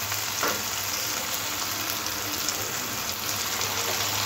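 Ginger-garlic paste frying in oil with softened onion and tomato for a mustard katla fish curry, a steady close sizzle running throughout with light stirring and no talk.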